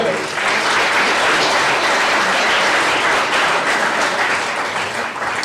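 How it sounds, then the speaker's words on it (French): Warm, steady applause from a crowd at a mayor's New Year's greetings ceremony in Verlinghem, a full dense clapping sound sustained evenly for about five seconds before cutting off. "Merci André, on peut encore l'applaudir."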